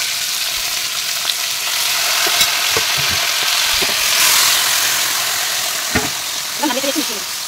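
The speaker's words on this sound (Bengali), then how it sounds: "এবার আমি মাছের মাথাটা সুন্দরভাবে নেড়ে চেড়ে ভেজে নেব।" A fish head fries loudly in hot oil, a constant sizzle broken by scattered knocks and scrapes of a utensil stirring the pan, with some faint background noise.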